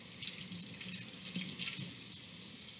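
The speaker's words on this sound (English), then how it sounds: "I'm gonna go ahead and turn the water back on." Steady rush of water from a sink faucet running continuously to rinse soapy hands, close and even, with no other sounds over it.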